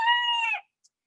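A small Belgian d'Uccle bantam rooster gives one short, clear crow close by, lasting about half a second and ending abruptly in silence.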